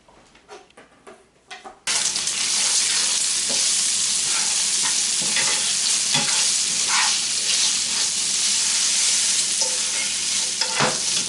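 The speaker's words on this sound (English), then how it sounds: "once we got that bacon all brown cooked, we'll take and remove that from the pan" Strips of bacon fry steadily in a pan for a breakfast casserole, a loud continuous sizzle with occasional pops and soft stirring scrapes, after a brief quieter start.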